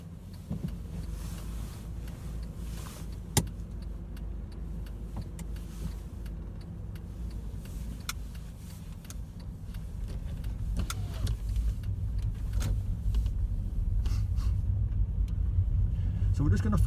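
Car pulling away during a learner driving lesson on a road with speed bumps and parked cars, a low steady engine rumble building gradually under an instructor's talk, with a brief click early on.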